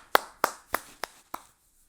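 A handful of slow, separate hand claps, five sharp strikes evenly spaced and fading toward the end, close and dry with nothing else around them, like a small audience answering a call for applause.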